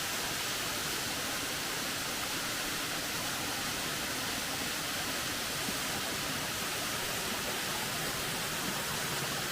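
Rufus Morgan Falls, a waterfall in Franklin, North Carolina, gives a steady broadband rush of falling water. The roar is constant and fairly near, with no other sounds breaking through.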